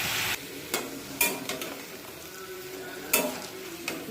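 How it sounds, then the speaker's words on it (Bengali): Turmeric, cumin and coriander powders sauté with a splash of water in a pan, a soft sizzle with several sharp spoon scrapes and clinks spaced out, close and alone without speech. "সামান্য একটু জল দিয়ে কষিয়ে নিই"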